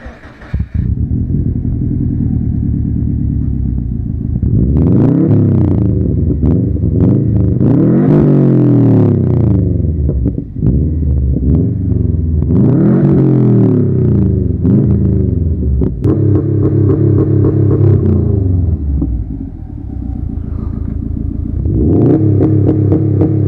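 A loud Subaru WRX engine rumbling and revving repeatedly in a tunnel, the exhaust rising and falling in pitch with each throttle blip, booming as if enclosed.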